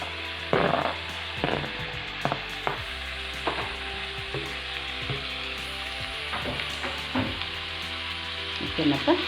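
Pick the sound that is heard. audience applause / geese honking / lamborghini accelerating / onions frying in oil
onions frying in oil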